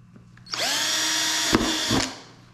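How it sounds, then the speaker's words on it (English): A power drill bores holes to mount a MIK adapter plate onto a tackle box on a Trek FX3 bike, its motor whining up sharply, holding a steady high pitch for about a second and a half, then two quick bursts as the bit bites before stopping. "Quick drill."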